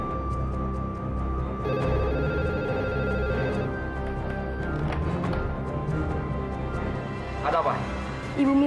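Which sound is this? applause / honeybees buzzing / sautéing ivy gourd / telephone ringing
telephone ringing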